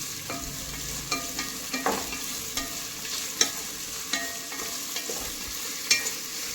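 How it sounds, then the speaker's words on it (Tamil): Onions fry with salt in a pan for biryani, a soft steady sizzle with a spoon stirring through them in repeated light scrapes and taps, close and fairly quiet. "அதையும் போட்டு நல்லா கிண்டி விட்டுறலாம்."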